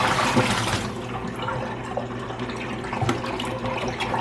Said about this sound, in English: I'm going to drain them one last time.